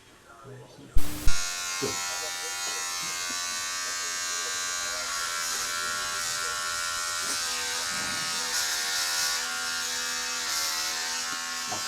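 Electric hair clippers buzz continuously at a barber's after a couple of sharp clicks as they switch on, holding a steady close-up drone that shifts slightly as they move through hair, with voices talking over it.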